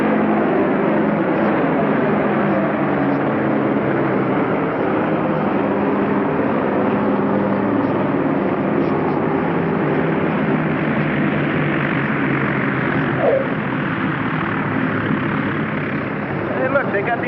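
A propeller airplane with full flaps on a landing approach, a steady loud droning engine hum with a throbbing propeller texture lasting the whole stretch, heard from inside the aircraft.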